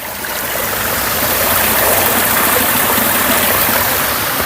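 Steady rushing of water pouring from a village spring where locals fill containers, a loud continuous splashing flow close by with no voices.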